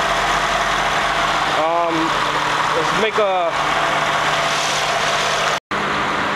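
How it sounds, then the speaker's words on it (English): A car engine idles steadily and close by, its even hum running under the whole stretch while someone talks briefly over it, with a short dropout near the end. "That's the engine."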